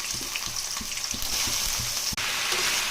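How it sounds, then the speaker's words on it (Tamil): Sliced ivy gourd sizzles and crackles steadily in hot oil in a pan, a dense, continuous frying hiss with faint stirring knocks underneath and a brief clatter partway through. "எண்ணெய் காஞ்சிடுச்சு, கோவக்காய் போட்டுக்கலாம்."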